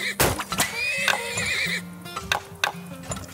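Horses in the video game Turmoil neigh loudly with shrill, wavering whinnies over sharp hoof clops, close and repeated across a few seconds.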